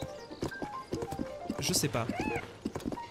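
In a video game, a horse's hooves clip-clop at a steady walk while ridden along a river, with an occasional whinny, all under close conversational talk.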